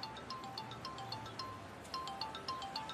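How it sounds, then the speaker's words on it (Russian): A mobile phone rings with an incoming call, its electronic ringtone repeating in a steady, rhythmic pattern of bright tones over a soft background hiss. No one speaks. "Вот она звонит."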